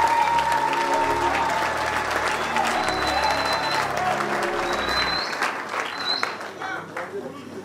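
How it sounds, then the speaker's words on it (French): An audience at a political coalition ceremony applauds in sustained, dense clapping that fills the hall, loud at first and then slowly easing, with some crowd noise mixed in. "Est-ce que nous pouvons l'applaudir, s'il vous plaît?"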